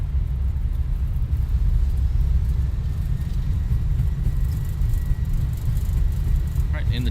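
Fenix A320 airliner rolling out after touchdown in a flight simulator, a steady low rumble of the wheels and engines on the runway, continuous and fairly loud, with a short faint chirp near the end.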